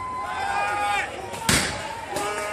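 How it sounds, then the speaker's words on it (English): Fireworks thrown at police during a May Day riot burst with one sharp loud bang in the middle and a fainter pop later, amid crowd noise and whistling tones. "More fireworks being thrown"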